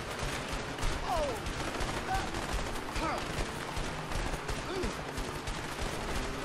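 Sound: gunfire in the video game A Way Out

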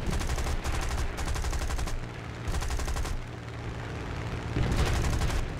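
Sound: aircraft cannon fire in War Thunder video game

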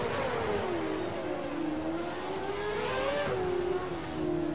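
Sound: racing car engine revving in an F1 video game

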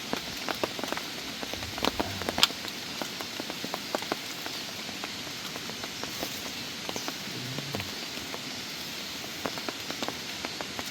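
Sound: heavy rain in the mountain forest

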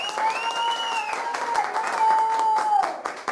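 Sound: audience applause for the guest

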